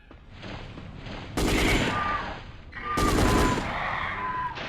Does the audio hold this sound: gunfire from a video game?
yes